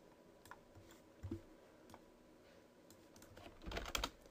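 Quiet typing of a command on a computer keyboard, scattered soft key clicks that build into a quicker flurry near the end, with no speech.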